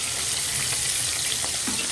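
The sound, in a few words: frying katla fish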